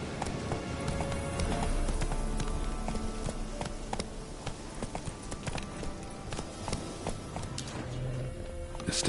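Roach, a horse in The Witcher 3, gallops with a steady rapid clip-clop of hooves, moderately close and continuous under faint ambient game sound.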